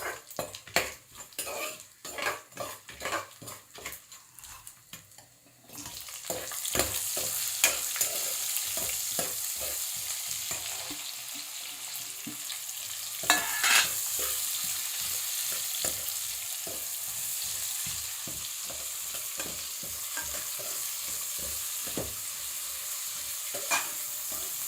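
Chicken is stirred into rice in a pan, a spoon scraping and clanking against the metal in quick repeated strokes, first alone and then under a steady frying sizzle.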